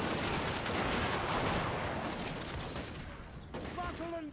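Massed rifle volleys and battle noise from a Warhammer game battle with Bretonnian troops, a dense loud roar of gunfire and rumble filling the scene, easing slightly, with a few high whistling tones near the end.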